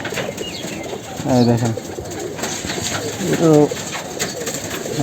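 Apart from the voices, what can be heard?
pigeons cooing and flapping in a loft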